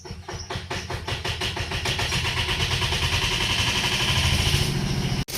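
A car engine idles nearby with the automatic transmission fluid level being checked, a loud steady rumble with fast regular pulsing that holds even throughout, cut off by a brief dropout near the end, with no talk.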